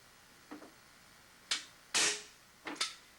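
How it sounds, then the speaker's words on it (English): Staple gun fired into a rolled paper tube for a homemade devil stick, four sharp snapping clicks spaced out over a few seconds, close and fairly loud in a quiet room. "going to staple this with his staple gun"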